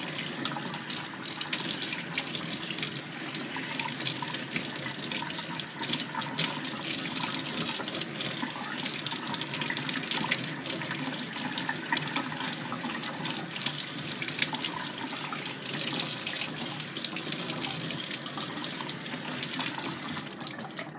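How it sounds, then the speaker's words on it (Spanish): Steady stream of water running from a tap while an orchid plant is washed, a continuous broadband splashing hiss that stays even and close throughout with no speech. "Le vamos a echar un poquito de agua. Que la agua no esté ni muy fría ni muy caliente."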